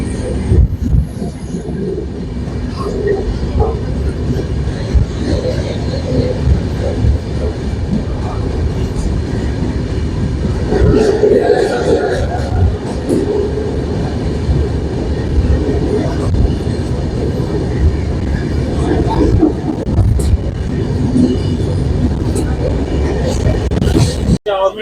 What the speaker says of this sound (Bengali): তো ট্রেন ছেড়ে দিচ্ছে,